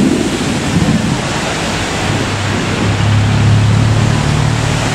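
Heavy monsoon rain pours down around an underpass near Ayutthaya, Thailand, a loud, unbroken roaring wash with a low rumble beneath it and no pauses.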